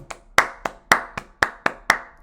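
A single person claps by hand, about eight sharp, close claps in a quick, slightly uneven rhythm with nothing else sounding.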